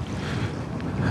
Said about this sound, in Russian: Сегодня ветер холодный, восточный.